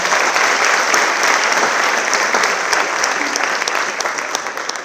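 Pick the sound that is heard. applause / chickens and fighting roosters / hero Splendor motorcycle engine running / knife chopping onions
applause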